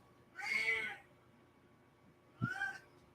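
A cat gives two distinct meows about two seconds apart, close and clear against a quiet room.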